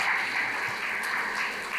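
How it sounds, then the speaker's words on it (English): Audience applause at a business conference talk: a continuous, even hiss of many hands clapping, fairly distant and steady across the whole short stretch, with no talking over it. "give yourself a round of applause for that"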